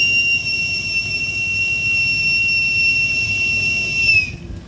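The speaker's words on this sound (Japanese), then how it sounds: "貨物列車通過します。" A freight train hauled by an electric locomotive passes a station platform, its horn a loud, steady, sustained tone that holds for about four seconds over a rumbling low background before cutting off abruptly.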